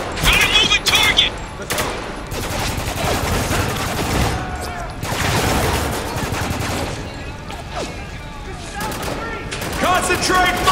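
Dense bursts of rifle and machine-gun fire from the combat game Spec Ops: The Line, a loud, nearly continuous rattling fusillade with sharper individual shots at the start and end, mixed with shouted squad callouts.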